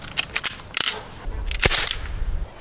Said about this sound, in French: Premier tir, je retire la sécurité et j'arme.